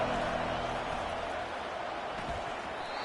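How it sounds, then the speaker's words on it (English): Dense crowd roar fills a college football stadium during a top-25 matchup, Penn State against Texas, steady and loud for the full stretch with a broad wash of voices and no clear breaks. "Listen to this crowd just shaking the girders of this place, trying to help their defense."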